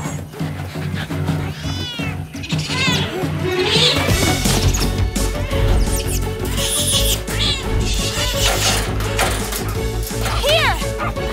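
A cartoon cat meows and yowls repeatedly amid crashes and whacks, with lively voices and music running over the frantic, loud action.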